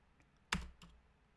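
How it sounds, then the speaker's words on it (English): A couple of crisp computer keyboard keystrokes, one sharp close click followed by a softer second press, alone in a quiet room. "so I'm just going to type no."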